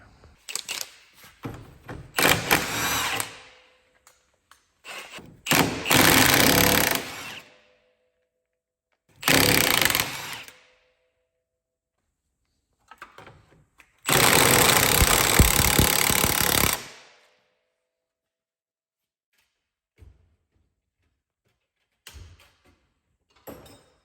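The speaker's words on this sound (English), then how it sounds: "We'll see if this lower nut comes off for the ball joint." Power tool working the lower ball joint nut on a Lexus LS400 suspension, loud rattling bursts of several seconds each separated by silences, with a few small clunks near the end.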